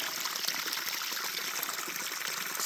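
A small waterfall in a desert wash trickles and splashes steadily, a close, even hiss of running water with no voices.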